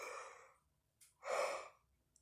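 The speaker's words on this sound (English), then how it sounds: "They're making me do all this yawning" A person yawns twice in a quiet room, first a long, drawn-out breathy exhale, then after a short pause a second, louder yawn that rises and fades, with no talking.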